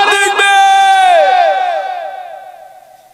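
A crowd at a religious gathering answers a takbir call by shouting Allahu Akbar in unison, a loud sustained chant that swells then slowly fades out with reverberation.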